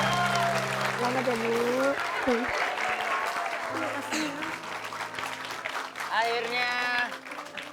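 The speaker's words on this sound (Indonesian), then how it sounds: "Sekali lagi kita kasih tepuk tangan yang meriah untuk Mas Endang" Audience applause for Mas Endang on an Indonesian TV comedy show, a steady wash of clapping running throughout beneath a voice and tonal music.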